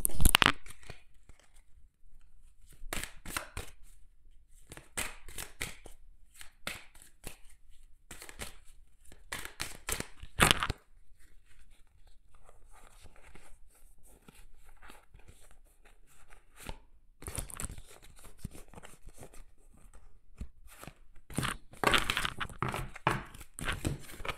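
Oracle cards being shuffled by hand, repeated crisp riffling and sliding bursts in irregular spurts, close and fairly loud, with brief pauses between.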